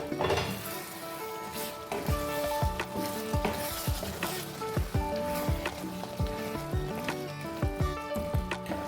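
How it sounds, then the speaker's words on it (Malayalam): Lemon and dates pickle cooks in a pan while being mixed, with a busy, close sizzle and repeated scraping and clattering strokes of a spoon against the pan throughout, with no talk. "ഇനി നമുക്ക് അത് തുറന്ന് ഒന്നും കൂടി നന്നായി മിക്സ് ചെയ്യാം."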